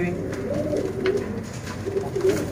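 A Sialkoti pigeon cooing close by in soft, repeated low coos, with some background talk mixed in.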